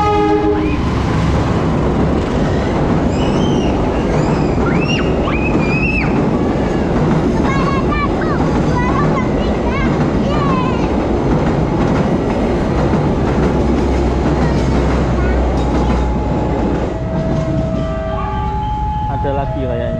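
A train rolls loudly through Lempuyangan Station in Indonesia with rhythmic wheel clatter, squeals and a sounding horn, close and continuous, with voices talking underneath.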